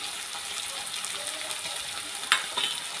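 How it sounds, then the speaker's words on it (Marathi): A masala paste for shev bhaji fries in a pan with a soft, continuous hiss, then one or two brief scraping knocks near the end; nobody speaks. "ही पेस्ट सगळी छान फ्राय झालेली"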